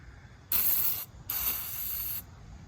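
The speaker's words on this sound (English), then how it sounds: "I'll spray that off with some carb cleaner and get it cleaned up." Carb cleaner sprays onto an old 25-year-old weed eater in two short hissing bursts, the second longer than the first, close and alone against a quiet background.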